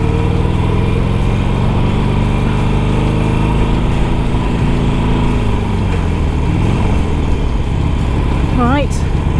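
A Harley-Davidson motorcycle engine drones steadily and loudly up close throughout a ride, with a continuous low rumble and wind-like road noise.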